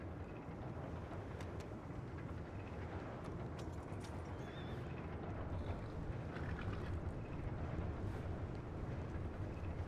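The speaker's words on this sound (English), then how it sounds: "I'm not even gonna ask what those horses are" Horses in the WildRP role-play video game, hooves clip-clopping steadily over a constant dense rumble and wind-like noise throughout, with no clear talk.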